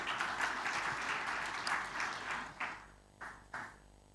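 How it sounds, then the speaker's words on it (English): Convention audience applauds in a hall, a dense burst of clapping that fades out, followed by two short scattered claps at the end. "Please give them a big hand clap."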